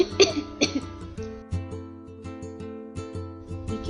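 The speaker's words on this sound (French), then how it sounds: "Lily tousse beaucoup." A girl with cystic fibrosis coughs in a burst of several sharp, close coughs at the start, followed by tonal music playing on its own.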